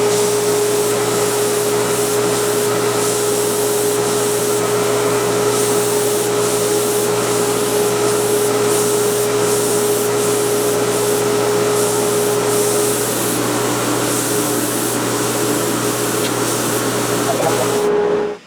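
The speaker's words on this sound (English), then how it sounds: "the deadhead sander makes short work of smoothing out all of the areas that the router bit left off" A deadhead belt sander with a 50 grit belt smoothing the routed profile of a guitar neck, running as a loud, steady, roaring hum with a constant tonal whine throughout, close by and uninterrupted until it cuts off at the end.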